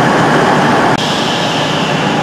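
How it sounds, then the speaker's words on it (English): A cross-country passenger train departs toward York, a loud continuous rumble of the moving train filling the whole stretch, steady and close by with a brief dip midway. "There goes the 2030 cross-country service to York."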